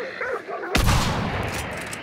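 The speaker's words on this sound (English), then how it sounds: "Oh, that's a shotgun from somewhere" A loud shotgun blast in Hunt: Showdown goes off abruptly and rolls into a long, rumbling echo that slowly decays.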